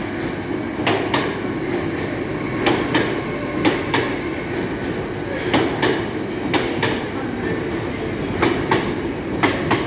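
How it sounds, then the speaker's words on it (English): A train rumbles steadily past, with sharp clicking wheel beats recurring in pairs and small clusters over a constant mechanical roar. "What the hell's making that freaking clicking noise?"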